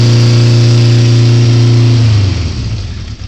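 A 1972 Honda CB350 Four motorcycle engine runs steadily just after a cold start, a loud, even four-cylinder drone that begins to waver and settle toward the end.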